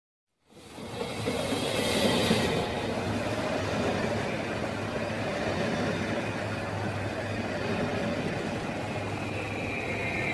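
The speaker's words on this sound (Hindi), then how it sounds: "वो देखो ट्रेन आ रही है।" A train with few coaches, mostly empty, approaching along the track, a steady loud rumbling roar that swells early and then holds as a continuous rolling drone with high hiss, no talking.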